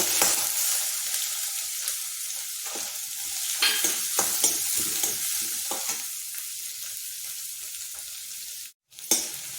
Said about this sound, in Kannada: ಜೀರಿಗೆ ಹಾಕ್ಕೊಳ್ತಾ ಇದ್ದೀನಿ ಅದಕ್ಕೆ ಹೆಚ್ಚಿಟ್ಕೊಂಡಿರೋ ಒಂದು ಈರುಳ್ಳಿನ ಹಾಕ್ಕೊಳ್ತಾ ಇದ್ದೀನಿ